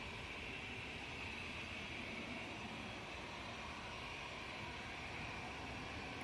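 A Ryanair airliner arriving from Shannon produces a steady, distant broadband roar that holds evenly throughout, faint and unbroken, with no voices.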